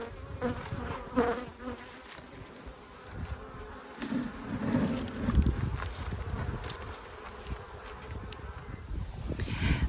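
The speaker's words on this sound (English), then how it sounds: "the bees are doing a whole lot of robbing from the other hive" Honeybees swarm around a hive on a flower farm, robbing from a neighbouring hive, making a dense, continuous buzz that swells and dips in loudness with no voices.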